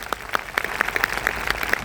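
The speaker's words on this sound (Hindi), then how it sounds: "आइए हम अपने पास्टर्स के लिए एक अच्छी ताली बजाएं सब मिलके" A church congregation claps together for their pastors, a brisk run of sharp, fairly close hand claps over about two seconds with no talking.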